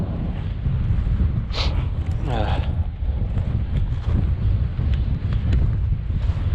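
Strong, cold wind in the Mojave desert buffets the microphone with a loud, continuous low roar, with a brief faint voice-like sound partway through.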